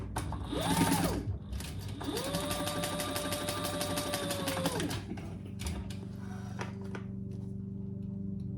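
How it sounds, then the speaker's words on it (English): A sewing machine stitches beneath a purse card slot, its fast even needle clatter running steadily for a few seconds and then stopping, with a lower mechanical hum continuing after it. "turn it over and stitch underneath that 5th card slot."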